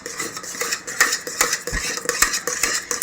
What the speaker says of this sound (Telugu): ఇలా కలుపుతూ ఉండాలి, ఎందుకంటే గడ్డ కట్టకుండా లేదు కింద అడుగట్టేస్తుంది అన్నమాట